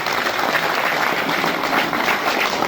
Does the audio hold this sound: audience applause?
yes